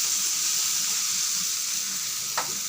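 Ingredients sautéing in a pan, a steady close sizzle and crackle throughout with one brief sharper hiss near the end.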